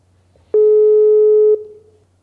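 Single telephone line tone while a call is put through, one steady electronic beep lasting about a second, clean and alone over quiet background.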